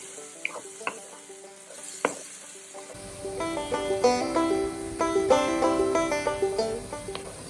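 Onions frying for homestyle masala chicken, sizzling steadily in a pan with a spoon stirring and scraping in bursts after a few quiet clinks, close and continuous, with no talking.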